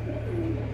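A pigeon gives a soft, low coo, brief and close, over a steady hum.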